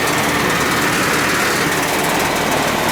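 A loud, steady mechanical drone with a dense rattling hum from an outdoor air conditioner unit running up close without pause.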